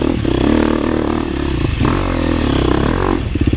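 A 2024 KTM 250 XCF dirt bike engine runs loud and close, revving steadily with a harmonic drone, dipping briefly near the middle and ending in a quick burst of sharp pops.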